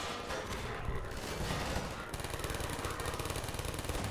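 Sentry turret in Half-Life 2 firing as dense, loud gunfire fills the scene, with rapid overlapping bursts running throughout and growing sharper and more rhythmic in the second half.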